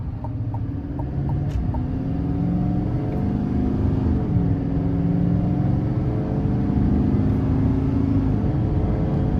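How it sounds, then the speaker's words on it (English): A 2024 GMC Sierra 2500HD Denali with the 6.6 Duramax diesel accelerates onto an interstate in low gear, its steady engine drone climbing in pitch through smooth gear changes over road rumble, with no talking. "I'm just gonna give it a bit of throttle here as I get on the interstate"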